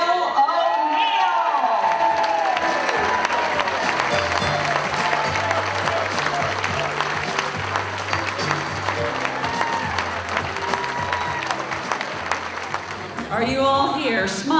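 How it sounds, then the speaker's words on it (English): A large dinner crowd at an annual mayors' event in Newport breaks into sustained applause and cheering for the mayor, dense and loud for many seconds, with whoops and crowd voices mixed in before it tapers off. "a huge round of applause for your mayor, Will O'Neill"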